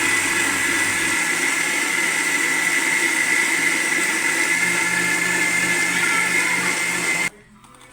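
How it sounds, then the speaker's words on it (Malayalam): A mixer grinder blends an Amrutham powder shake, a loud continuous whine and buzz that runs steady for about seven seconds and then stops abruptly, leaving quiet. "അപ്പോൾ നമ്മൾ മിക്സിയിലിട്ടിത് അടിച്ചിട്ട് തിരിച്ചു വരാം."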